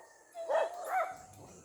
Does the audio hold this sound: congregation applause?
no